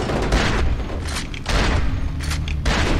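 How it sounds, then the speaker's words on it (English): A grenade blast in the shooter game FEAR 2, a loud booming burst with heavy low rumble and crackling debris, followed by further thuds and gunfire-like bursts close by, with no talk over it. "Look out, grenade."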